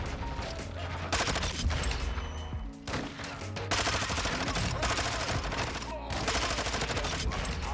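Fast automatic fire from a VAZNEV-9K submachine gun in Modern Warfare 2 multiplayer, long rattling bursts with brief pauses between them, moderately loud amid game ambience.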